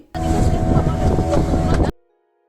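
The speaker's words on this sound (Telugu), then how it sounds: "బోట్ రైడింగ్ ఏంటంటే బాగా బీచ్ నుంచి అంజునా బీచ్ వరకు వెళ్తుంది" A boat ride from Baga beach to Anjuna beach in Goa: a steady, loud motor drone with wind buffeting the microphone, lasting under two seconds before cutting off abruptly.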